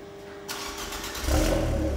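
An Abarth 500 engine starts and revs through a louder exhaust, its note rising louder and throatier partway through, with no voices.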